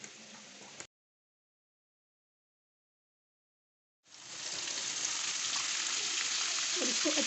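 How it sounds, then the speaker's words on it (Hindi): Beef paya with masala fries in a pot, sizzling steadily at close range. A short burst of sizzle is followed by a few seconds of silence, then the frying resumes and keeps going without talk. "और इसको अच्छी तरह से हम भूनेंगे, जैसे कि एक मसाला भुना जाता है इसी तरह इसको भूनेंगे"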